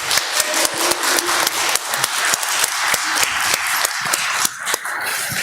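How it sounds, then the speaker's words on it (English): A church congregation claps in steady applause welcoming new members, dense overlapping hand claps with sharp individual strikes standing out, fairly loud and continuous throughout with no talking. "So please give everyone a big applause here."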